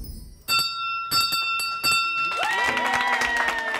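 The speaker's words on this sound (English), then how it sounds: "The bell is the best sound we hear every day." A bright bell rings several times in bursts at a cancer institute gala, then clapping and cheering from a group swell up around its ringing tones.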